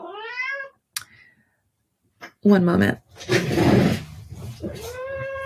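A house cat meows loudly up close, with one clear meow at the start and another at the end, and a person speaking in between.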